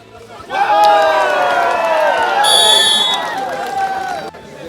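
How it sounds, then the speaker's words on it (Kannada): Uniformed police spectators at a sports meet in Madikeri, Kodagu, roar and cheer in a loud crowd, with shrill whistles and clapping rising through the noisy babble before it fades back down. "ತಮ್ಮ ತಮ್ಮ ತಂಡಗಳ ಪರ ಸಿಳ್ಳೆ ಚಪ್ಪಾಳೆ ಹಾಕಿ ಹುರಿತುಂಬಿಸ್ತಾ ಇರೋ ಪೊಲೀಸರು"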